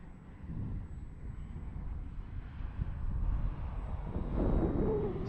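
HobbyZone Carbon Cub S2 remote-control airplane flying in gusty wind, a steady low electric motor drone with rushing wind noise that swells slightly toward the end, no talk.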